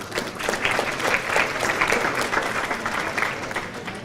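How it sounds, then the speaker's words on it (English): Audience at an adult bowling association awards banquet applauds steadily in an indoor hall, with dense overlapping claps sustained at an even level for several seconds and no speech over it. "One more round of applause, please."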